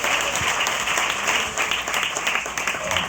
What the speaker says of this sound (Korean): 이채은 국악단에게 뜨거운 박수 부탁드립니다.